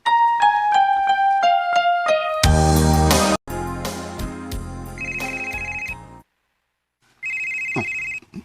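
A phone rings with an incoming call: a descending melodic ringtone plays, a loud musical burst follows, then two long steady ring tones sound with a silent gap between them.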